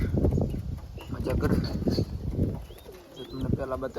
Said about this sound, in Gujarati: જો બંને કબૂતર છે આમાં ફિલહાલ